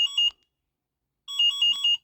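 Short bursts of high electronic beeping from a 2024 Mondial E-Mon Rigby electric scooter alarm, a brief trill, a pause of about a second, then a longer run of repeated chirping tones, close and clear.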